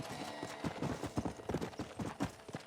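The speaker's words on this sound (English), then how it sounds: "Is this a horse race or a carriage race? Oh, it's a horse race." Horses gallop in a race in the Red Dead Redemption video game, a steady quick clip-clop of many hooves at low level with no talk over it.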